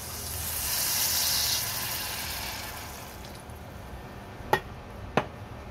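Water hits a hot pan of sinigang with a loud hissing sizzle that swells then fades to a low simmer, followed by two sharp knocks near the end.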